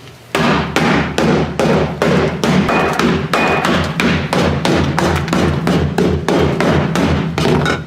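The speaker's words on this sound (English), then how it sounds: "So grab a ball peen or like some kind of hammer." A ball-peen hammer strikes the metal floor of a Nissan S13 car repeatedly in a fast, steady rhythm, about two dozen sharp, loud whacks close by with no one speaking.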